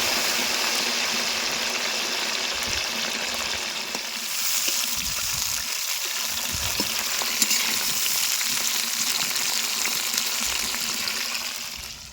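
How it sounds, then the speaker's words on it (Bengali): Steady, close sizzling of cauliflower frying in hot oil, a dense crackling hiss that runs throughout with occasional stirring clatter; no voices. "আমি সেই জন্য ফুলকপিগুলো ভেজে নেব প্রথমে"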